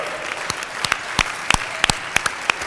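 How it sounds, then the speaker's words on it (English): An audience at a Rotary Club meeting claps briefly, a short patter of scattered individual claps rather than a dense roar, fairly close and alone. "Let's give her a round of applause, Shirley Love."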